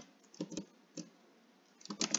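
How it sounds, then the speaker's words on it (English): Typing on a computer keyboard, close and fairly soft, in short clusters of quick keystrokes broken by pauses, ending in a denser flurry of clicks. "we can go ahead in our browser and type in"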